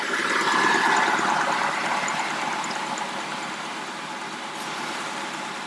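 A car engine idling with the air conditioning running, a steady broadband hum with blower-like hiss, constant and close throughout with no voices.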